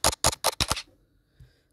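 A Samsung Galaxy A71 camera fires a rapid burst of five crisp shutter clicks in quick succession while creating a GIF, then falls silent except for a faint soft tap.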